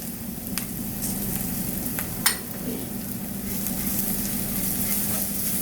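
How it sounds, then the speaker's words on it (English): Curry leaves dropped into hot oil for a dates pickle give a steady, moderately loud sizzle and crackle, with a few sharp pops and a light clink of a pan partway through. "Now we will add this curry leaves"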